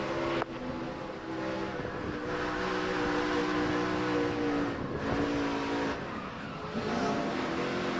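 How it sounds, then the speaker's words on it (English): A loud NASCAR race truck engine roars continuously, its pitch rising and falling as the throttle is worked, with crowd-like noise underneath throughout. "let's listen to his throttle"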